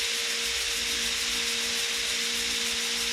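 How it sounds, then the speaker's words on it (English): Steady, even rubbing hiss of sandpaper against a wooden bottle opener spinning on a lathe, continuous and fairly close, with a faint motor hum beneath and no talking. "So I'm going to sand this to probably, 800"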